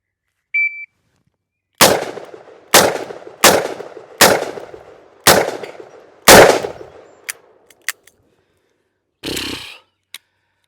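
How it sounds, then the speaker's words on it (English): Rapid pistol fire from a .44 Magnum and a .460 Rowland at about seven yards, six sharp loud shots in quick succession with ringing decay, followed by a few faint clicks and a brief burst of noise. "I was shooting as fast as I could"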